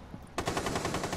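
A rapid burst of automatic gunfire erupts after a brief lull in Rainbow Six Siege gameplay, fast evenly spaced shots continuing to the end.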